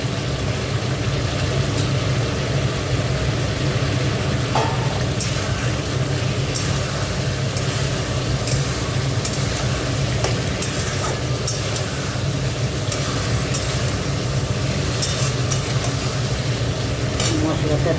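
Potatoes and pointed gourd fry in hot spiced oil in a pan, a dense, steady sizzle with stirring scrapes that runs close and loud throughout, with no talk.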